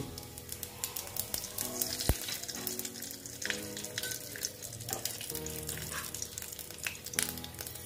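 Whole spices for a tempering sizzle in hot oil in a pan where pointed gourd was fried earlier; a steady, moderately loud crackle runs throughout, with a few sharp pops and light clinks, and no talking.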